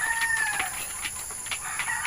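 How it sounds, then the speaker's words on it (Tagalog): Young chicks and chickens in a small flock, with repeated high peeping chirps and a few clucks close by, no talking. "Medyo malalaki na yung ating sisiw."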